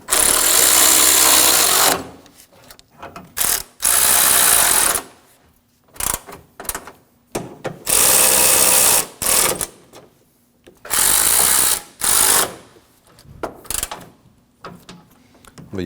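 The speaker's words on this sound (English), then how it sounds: "snug down all of our 10mm bolts" A ratchet snugs down 10mm bolts on the radiator core support of a 2016-2022 Honda Pilot, giving several close, loud bursts of rapid clicking, each lasting one to two seconds, separated by short quiet pauses.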